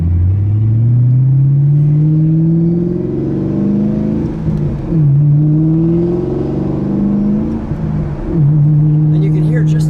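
A supercharged 2006 Ford GT with its 5.4-liter V8 and aftermarket exhaust drones close by, its low engine note rising and falling through repeated revs and shifts, with voices talking over it.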